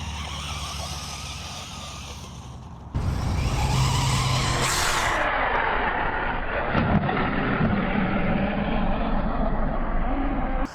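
A small DEERC 1205 RC short course truck races around an off-road track, its electric motor whining and its tyres scrabbling, loud and close, with a sharp change in tone partway through as it speeds up.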